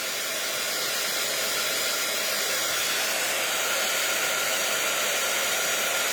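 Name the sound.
heat gun melting embossing powder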